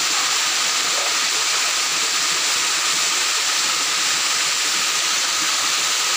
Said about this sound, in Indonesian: Air terjun tertinggi di Tambunan